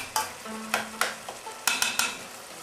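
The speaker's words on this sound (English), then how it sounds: "Keep stirring it. Mix it up real nice" Shepherd's pie filling of meat sizzles in a pan as a utensil scrapes and stirs it in repeated sharp strokes over a steady frying hiss, close up with no talking.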